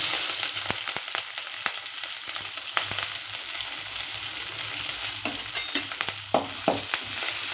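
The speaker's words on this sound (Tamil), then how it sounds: "நல்லா பொன்னரமாக வதக்கலாம்" Onions, curry leaves and green chillies sizzle steadily in hot oil in a pan, with occasional scrapes and taps of a spoon as they are stirred, close up and without any talking.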